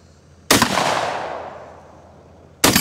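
Two loud shotgun blasts from a Citadel shotgun at an outdoor range, one fired early and a second near the end, the first with a long ringing tail that fades between them.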